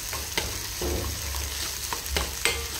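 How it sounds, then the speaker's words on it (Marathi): Curry leaves with ginger and garlic paste sautéing in hot oil alongside cumin and mustard seeds, a steady crackling sizzle punctuated by a few sharp spatula scrapes, close and moderately loud. "नंतर त्यामध्ये कढीपत्ता, अद्रक, लसूण पेस्ट टाकून व्यवस्थितरित्या परतून घेऊया।"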